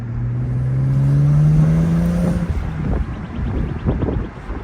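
Tuned BMW 335i with the N54 engine on an MHD Stage 2+ tune, a loud low exhaust drone rising in pitch over the first two seconds and then settling into a rough, fluttering rumble with wind buffeting.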